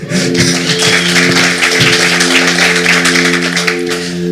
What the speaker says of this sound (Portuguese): Uma salva de palmas para o Reide.